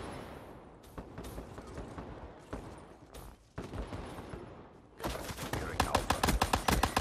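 Gunfire in a Call of Duty video game, scattered sharp shots early and then a fast, loud, rhythmic string of pistol rounds in the last two seconds.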